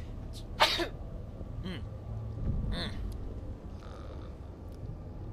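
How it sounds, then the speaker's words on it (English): A person lets out one sharp, loud sneeze near the mic, followed by low grunting breaths over faint, steady video-game background sound. "Oh, to sneeze."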